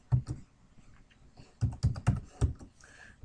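Bursts of typing on a computer keyboard, quick clusters of close, crisp key taps separated by short pauses, with no talking.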